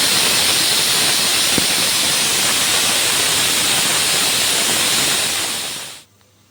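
A pressure cooker cooking spinach dal (palakura pappu) lets out a long, loud, steady steam whistle, a continuous hiss that holds for about six seconds and then cuts off abruptly into quiet.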